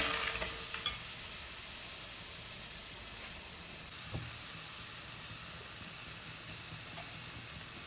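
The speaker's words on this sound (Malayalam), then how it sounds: "പച്ചമുളക്, ഇഞ്ചി ചേർത്തിളക്കുക." Green chilies and ginger being stirred in a frying pan for a Kerala ripe-banana kaalan, a steady soft sizzle and hiss with a few faint scrapes, no voices.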